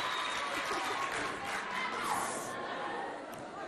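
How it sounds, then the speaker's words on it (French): Audience in a hall in Moundou, Chad, at a school quiz contest clapping loudly, a dense sustained roar of applause mixed with crowd chatter and voices, tapering off near the end. "On applaudit bien fort."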